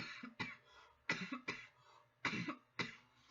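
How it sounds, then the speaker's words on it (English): Repeated coughing from a livestream host, about six sharp hacking bursts in an irregular rhythm, close and fairly quiet, with no talk. "I'm sorry if I'm coughing"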